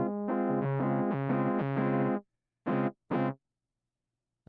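A guitar played through a compressor effect on a Boss GM-800 guitar synth gives even, sustained notes in a quick run, then two short separate stabs with silence between them.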